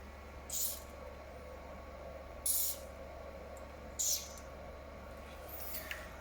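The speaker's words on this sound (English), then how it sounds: "Spray the lubrication on rails of y axis." Aerosol lubricant sprayed onto the Y-axis rails of a CO2 laser cutting machine during maintenance, three short hissing bursts spaced about two seconds apart over a low steady machine hum, with a fainter fourth hiss at the end.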